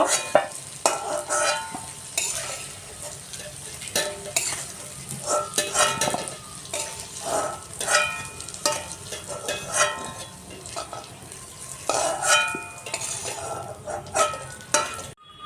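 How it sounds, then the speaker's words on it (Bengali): Rice grains frying in hot oil in a pan for a Bengali hilsa fish and potato curry, a soft sizzle broken by repeated scraping stirs and light clinks of a spatula against the metal, close up, with no one speaking. "চালগুলো ভেজে নিয়েছি এখন তুলে নেব"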